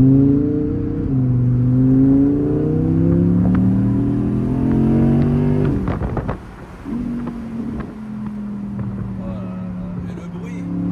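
A V10 convertible's engine revs up and eases off several times in rising and falling tones with wind buffeting, then a brief clattering drop and a steadier cruising drone; a voice speaks intermittently over it.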